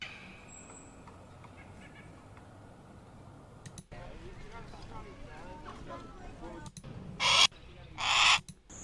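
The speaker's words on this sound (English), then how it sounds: "Hawk sound effects, all sounds." Two loud, shrill, piercing bird screeches from a hawk sound effect ring out near the end, preceded by background talk and noise.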